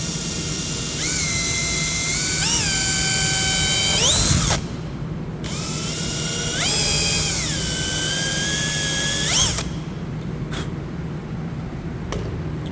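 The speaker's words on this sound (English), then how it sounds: "now what I'm going to do is put the ream in, and that's going to widen that hole out for us." A ream is worked into a tyre puncture hole to widen it, giving a whining, drill-like tone that rises and falls. It comes in two bursts of about four seconds each, then a brief final spurt, close and fairly loud.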